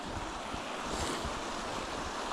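A stream at a winter campsite rushes steadily, a constant broadband wash of flowing water, fairly close and with no voices over it.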